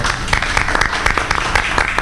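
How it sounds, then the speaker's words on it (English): Steady applause from an audience, dense overlapping claps filling the room at an even, loud level throughout. "Let's give him a round of applause."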